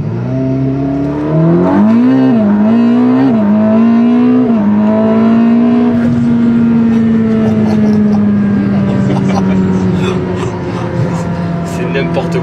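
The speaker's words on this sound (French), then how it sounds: "Est-ce que tu nous ferais pas une petite accélération sur l'insertion de voie rapide?" A Ferrari SF90 supercar accelerates onto an expressway on-ramp, its engine note rising and shifting through gears before settling into a strong, steady drone heard from inside the cabin.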